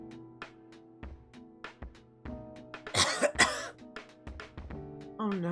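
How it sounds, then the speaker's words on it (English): Coughing bursts, a sharp cluster near the middle and smaller hacks around it, over a steady sustained tone, fairly close and moderately loud. "Oh no, your cough is getting worse."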